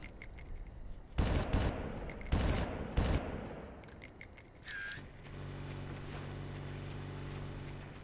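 Gunfire in the video game Far Cry 1: a few short, loud bursts of automatic fire in quick succession, then a brief tone and a steady low mechanical hum.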